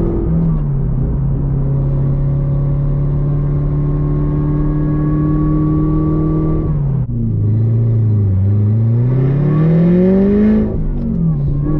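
A Chevrolet C7 Corvette in sport mode accelerates with a loud, steady engine drone from inside the cabin. The revs climb, drop sharply at a gear change, then rise again with a swelling pitch.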